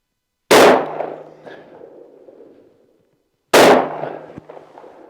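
Two loud, close shotgun blasts firing 2 3/4 inch 1-ounce slugs, spaced about three seconds apart, each a sharp crack followed by a decaying echo.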